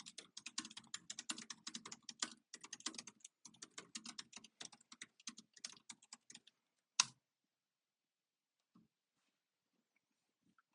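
Fast, steady typing of a prompt on a computer keyboard, with dense clicking keystrokes for about six seconds, then one sharp tap and near silence. No one talks.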